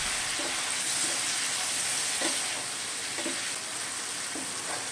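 Masala with onion and ginger is stir-fried in a pan with splashes of water for a khoira fish and hog plum sour curry, a steady quiet sizzle broken by regular scraping stirs.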